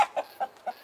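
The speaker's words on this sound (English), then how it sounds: "This is me being a chicken." Chicken clucking in the video game GTA 5, four short, bright clucks spaced roughly a quarter second apart, fairly close and alone with no talk over them.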